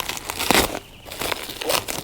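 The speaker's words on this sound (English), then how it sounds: "Just cut all this plastic off" Plastic wrapping crinkles and tears as it is cut off new camping cooking gear, with several loud rustling bursts and a brief quieter pause.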